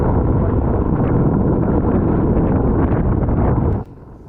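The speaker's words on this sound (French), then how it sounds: "Le vent monte encore, rafale à 35-38 nœuds" Strong 35–38 knot gusts roar across the microphone of a Mini-Transat sailboat racing at sea in the Gran Premio d'Italia, a dense, loud buffeting that drops off abruptly near the end.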